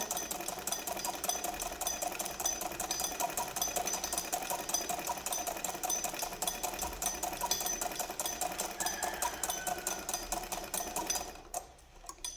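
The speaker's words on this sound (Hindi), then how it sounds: "ये देखें, ये मैंने आस्तीन का ये हिस्सा सिल लिया।" Sewing machine stitching a fabric sleeve, a fast steady mechanical chatter running continuously at close range, stopping abruptly near the end, with no talk.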